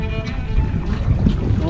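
Wind blows hard across open water during a canoe trip, a loud, close, rumbling gust buffeting the microphone with a constant whoosh and no pause.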